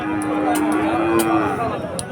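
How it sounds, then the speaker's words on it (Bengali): One cow gives a single long, loud moo close by at the busy Chuknagar cattle market, over a steady murmur of market noise. "এই সুখনগরে কত সুন্দর সুন্দর গরু বাছুর আসে"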